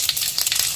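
Fennel seeds fry in hot oil for chicken masala, giving a brief, bright, steady sizzle with fine crackling and no talk.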